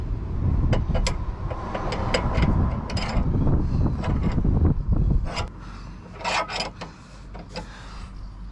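Wheel nuts on a Fiat Ducato Elddis CV40 campervan being tightened with a wrench, giving a run of close metallic clicks and ratcheting knocks with scraping, rubbing handling noise throughout, busier in the first half and then sparser.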